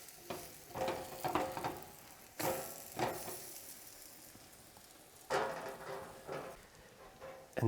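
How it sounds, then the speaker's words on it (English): French toast on brioche sizzles in melted butter in a pan, a steady low crackle broken by a few louder bursts of spitting and scraping as the slices are handled or flipped. "once the butter is melted, we can just gently lay in our French toast. And we're going to let that fry"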